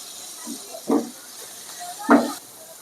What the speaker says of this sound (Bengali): হালকা করে একটু ফ্রাই করে নেব